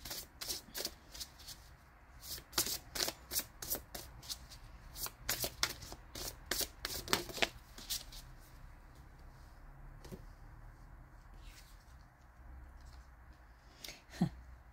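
Tarot cards are shuffled by hand in quick, crisp riffling bursts that come close and clear in rapid clusters, then thin out to a few scattered flicks.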